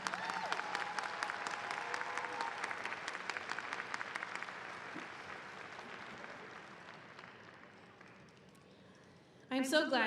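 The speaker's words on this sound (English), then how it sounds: "Can we give our student speakers another round of applause?" Graduation audience at Spencer High School applauding the student speakers, dense sustained clapping that gradually thins and fades over about eight seconds before a louder burst of sound at the very end.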